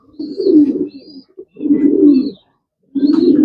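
Racing pigeons coo in a loft, three close, loud bursts of low throaty cooing separated by short silences, with faint higher chirps above.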